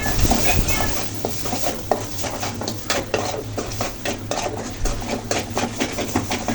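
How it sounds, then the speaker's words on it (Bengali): Spices frying in a pan for a shing fish bharta with Culantro, a busy sizzle broken by repeated scraping and clinking of a spoon stirring against the pan, close and fairly loud. "মশলাগুলো এক দেড় মিনিট সময় নিয়ে ভেজে নিয়েছি"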